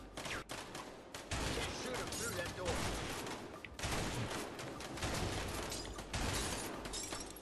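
Repeated bursts of rapid gunfire in the A Way Out video game sound loud and close in quick volleys, with voices talking over the shooting.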